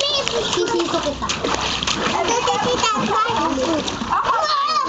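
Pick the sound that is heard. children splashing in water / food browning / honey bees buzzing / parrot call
children splashing in water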